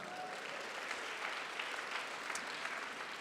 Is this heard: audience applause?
yes